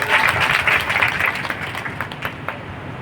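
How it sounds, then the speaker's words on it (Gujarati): Loud, thunderous applause from a devotional gathering in Sidhpur, Gujarat honours a saint. The dense clapping starts strong, then thins and fades into scattered claps. "ફરી જોરદાર તાળીઓના ગરગડાટથી આપણે એમનો ઉદાવો થાય"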